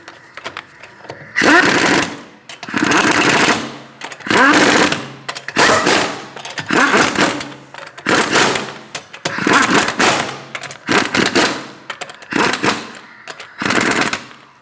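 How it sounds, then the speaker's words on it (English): A power impact tool snugs down the lug nuts on a Chevrolet Malibu wheel during a front brake job, giving loud, close rattling bursts of about a second each, repeated around eight times with short pauses between. "Snug the lug nuts down."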